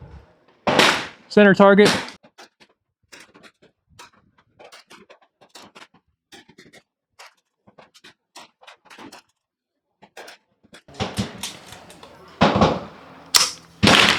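CCI Stinger .22 LR rifle rounds with nickel cases fire as sharp, close cracks: a quick pair early on, then a few more spaced shots near the end, with a brief spoken remark and quiet handling noises in between.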